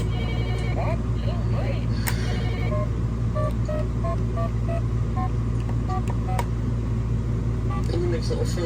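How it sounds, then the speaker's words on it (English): Beeping dialing tones from a VTech Little Smart Mr. Squawky Talky toy phone, a run of short bright electronic blips over a steady low hum, with a person talking at times. "And it makes little phone dialing noises."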